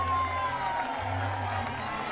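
A crowd at an NCAA softball championship game between Florida and Mercer cheers after a foul ball off a well-struck hit, a steady wash of crowd noise filling the whole moment.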